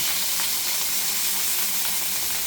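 Beef for pot roast sears in hot oil in a pan, giving a loud, continuous crackling sizzle with no talk over it.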